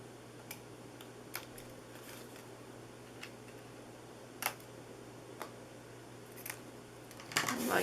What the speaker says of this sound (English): I'm just going to trim these pieces here.